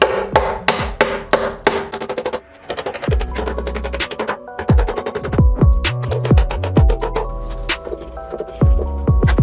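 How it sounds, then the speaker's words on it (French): A small hammer tapping wall plugs into a cellar wall while electrical boxes are fitted, giving a rapid series of sharp, close knocks in uneven bursts with brief pauses between them. "tu prends un petit marteau, hein, ce que tu as sur la main, et tu tapes dessus"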